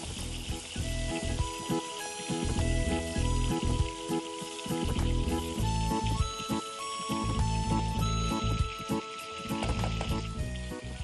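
Chopped tomatoes sizzle and fry in a pan with browned onions, a close, crackling hiss with stirring scrapes, no talk over it.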